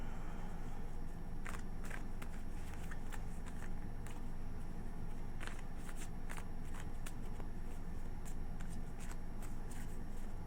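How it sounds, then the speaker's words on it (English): Tarot cards are shuffled by hand in a series of crisp, riffling flutters and sharp snaps, clustered in quick bursts close up against a quiet room background, with no speech. "Two more shuffles."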